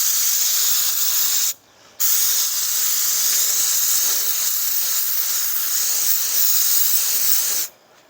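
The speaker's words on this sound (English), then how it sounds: "Ready to spray the base." Paint spray gun laying base coat onto a plastic door handle, a loud steady hiss running almost continuously, broken by one short pause before resuming.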